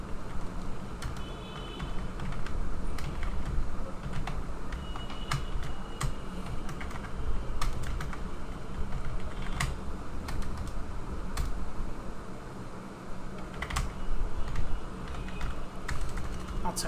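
Fingers type steadily on a computer keyboard, a close, continuous patter of quick clicks with occasional sharper key taps over low background noise.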